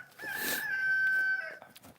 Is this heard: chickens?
yes